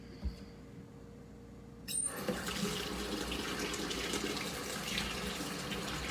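Water from a kitchen tap suddenly starts running and keeps flowing steadily as a can is rinsed under it, close and moderately loud, with no talking.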